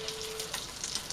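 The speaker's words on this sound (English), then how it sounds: "as this thing is sizzling and frying away" Breakfast food sizzles and fries in a pan with a little oil, a faint steady crackling hiss heard alone.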